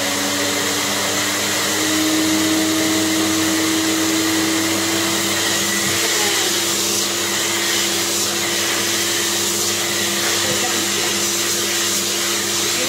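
A steady, loud electric pet hair blower whirs continuously up close, drying a King Charles spaniel's fur, a constant motorized drone with no talking.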